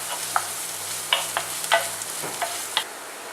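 Chopped onion and green chilies sauteing in hot oil with fennel seeds, a soft steady sizzle broken by several sharp stirring scrapes and taps, close and alone.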